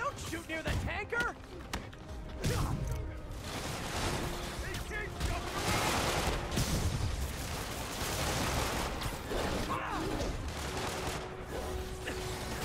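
Gunfire rattles through a Marvel's Spider-Man video game fight near a tanker, a dense continuous barrage with sharp cracks and heavy blasts under game music and effects, while a player talks over much of it.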